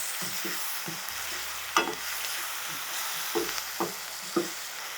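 Pumpkin and tomato pieces frying with salt in a pan for a pumpkin pulusu, under a soft continuous sizzle broken by several scraping, clinking stirs of a spoon.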